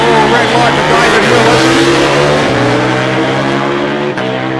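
Comp and modified drag racing bikes rev hard at the start line during Twilight Nationals 2021 qualifying, a loud, sustained engine roar with shifting pitch that carries on throughout, with a commentator talking over it.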